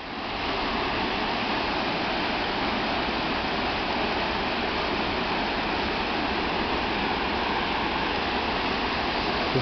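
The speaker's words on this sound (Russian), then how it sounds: "И вот с труб вода течет." Water gushes steadily from pipes at a road construction site by the Pripyat River, a constant loud rushing flow with no pauses or voices.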